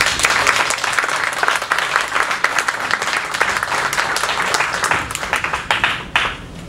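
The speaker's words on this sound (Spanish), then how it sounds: "un fuerte aplauso por todos" Dense, steady applause from a sizeable audience at a course for educators, many hands clapping continuously for several seconds before tapering slightly at the end.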